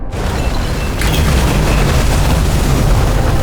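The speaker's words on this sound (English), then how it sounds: "Fuses just blew" Electrical fuses blowing in the video game Nobody Wants to Die: a sudden loud boom and burst, followed by a sustained, heavy rumbling roar that stays loud to the end.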